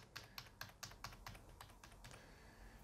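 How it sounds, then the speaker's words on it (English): Faint, close key presses on a computer keyboard, about ten evenly spaced clicks in quick succession and then trailing off, repeatedly tapping the F12 key on a PC with a Gigabyte motherboard. "I'm going to be pressing the F12 key."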